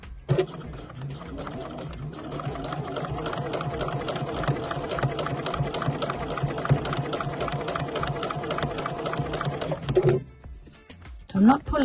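A domestic sewing machine runs steadily for about ten seconds, stitching three layers of scrappy fabric along an edge beside a zipper. The motor and needle make a close, even whir, then stop, with a voice present beneath it.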